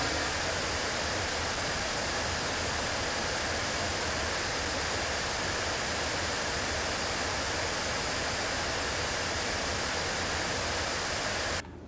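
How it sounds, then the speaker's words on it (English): Steady pink noise test signal played through a studio monitor speaker for level calibration, a continuous even broadband hiss holding constant loudness throughout before cutting off abruptly at the end. "So I'm going to set this pink noise to read 79 dB on my SPL meter."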